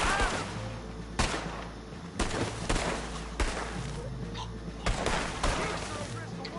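Gunshots in a video game, a series of loud sharp reports at irregular intervals over a rumbling background, with voices talking between the shots.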